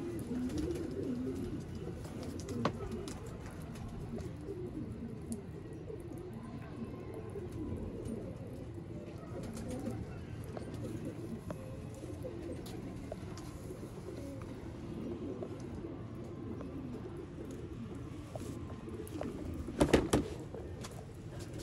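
Pigeons in a loft cluster coo softly and continuously in low, rolling murmurs, several birds overlapping at a moderate distance, with a brief rattling knock near the end and no clear talk.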